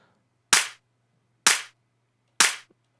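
Three sharp, tight layered clap hits from a music production sample, evenly spaced about a second apart, crisp and bright with quick decays and silence between.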